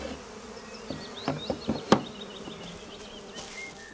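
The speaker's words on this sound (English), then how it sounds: "the bees still have to collect more honey supplies" Honeybees buzz around a hive in the Carpathian Mountains, several thin whining flight tones passing close by against a quiet outdoor background, with a few soft knocks in the middle.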